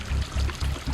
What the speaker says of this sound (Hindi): पेटी से पानी आना शुरू होता है।